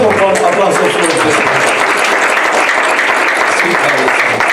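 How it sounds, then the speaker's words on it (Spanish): A church congregation bursts into strong, sustained applause, loud and close, with voices mixed into the clapping. "Dale por favor un aplauso fuerte."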